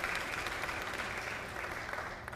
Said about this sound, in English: That's an applause moment.